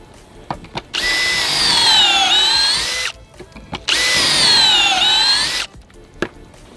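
A power drill bores pocket holes in decking wood in two loud, sustained whining bursts of about two and a half seconds each, separated by a pause with small clicks and knocks.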